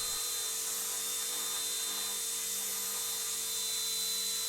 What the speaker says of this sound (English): After a bit of a wobbly takeoff, the 206 was holding a stable hover hands off.